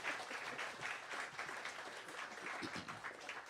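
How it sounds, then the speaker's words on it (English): An audience at a jazz session applauds a performer, giving a soft, even patter of many hands clapping at a distance, sustained for the whole stretch. "Give her one more round of applause."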